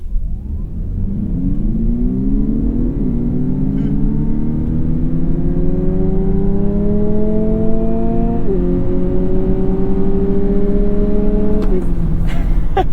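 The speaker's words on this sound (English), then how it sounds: "the car is going to simulate and make artificial shifting sounds as though we were in a video game" A 2022 Lexus UX 250h hybrid with a CVT accelerates hard, its engine drone climbing in pitch and then dropping in steps as artificial gear shifts play through the cabin speakers, loud and continuous from inside the car.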